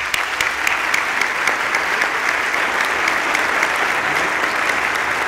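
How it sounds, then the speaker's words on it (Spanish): An audience at a conference opening ceremony applauds in a dense, steady burst of clapping that fills the hall, loud and sustained throughout with no voices over it. "al cual pido un fuertísimo aplauso"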